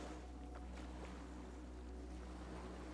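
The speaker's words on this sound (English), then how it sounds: "The skiff is swaying on the waves by the dock." A wooden skiff sways on the waves beside a dock in the Disco Elysium video game, with a steady low wash of water and wind and a faint hum, soft and continuous, with no voices.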